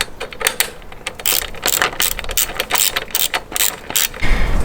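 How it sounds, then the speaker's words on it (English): A ratchet tool clicks rapidly in short bursts, close and loud, while loosening 5 mm hex bolts on a Suzuki V-Strom 800 motorcycle during a cruise control fitting. "so I will remove these bolts, hex of size 5"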